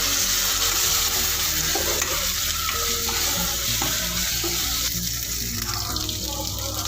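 Ginger garlic paste sautéing in a pan for mushroom gravy, a steady close sizzle with scraping stirs throughout, no voices.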